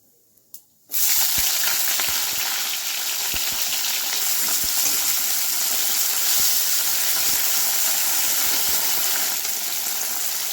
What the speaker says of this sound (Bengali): জিরেটা ফুটে উঠলে আমি আগে সজনে ডাঁটাগুলো দিয়ে দেবো